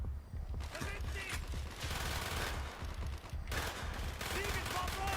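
Gunfire in a Black Ops shooter game, with bursts of automatic fire and scattered shots under constant battle noise, close and steady.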